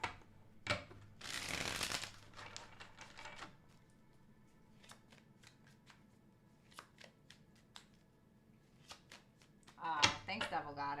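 Tarot cards are shuffled in a quick riffling burst, followed by soft taps and slides of cards being handled, then another brief shuffle near the end.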